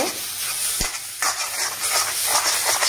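Boiled plantain being stir-fried with spices in a pan, a close hissing sizzle with repeated scraping stirs and a sharp knock early on, steady and fairly loud.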